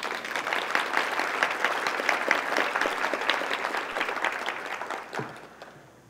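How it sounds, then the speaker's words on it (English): An audience at a talk claps for a group of volunteers, dense sustained applause at even strength that thins and fades out over the last second. "That deserves applause,"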